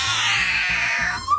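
A toddler imitates a cat's meow in one drawn-out, wavering cry that rises then falls, close and fairly loud, ending with a brief higher squeak.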